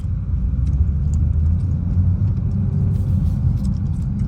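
A car engine idles smoothly and steadily, a close, even low rumble with no revving, surges or spoken voices.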